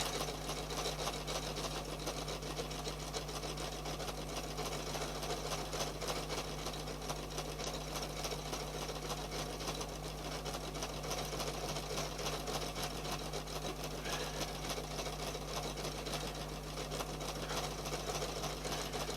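A sewing machine stitches decorative stitches in a circle with a steady, fast, continuous mechanical whir and rapid needle clatter. The sound is close, even and uninterrupted, with no talking.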